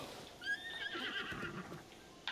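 A horse in the video game Breath of the Wild gives a short, faint whinny that rises and falls, with no talk over it.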